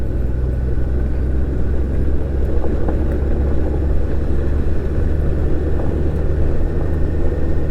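A Honda GL1800 Goldwing motorcycle rolls over a gravel road near a lake, with a loud, continuous low engine and tyre rumble and steady road noise throughout, without speech.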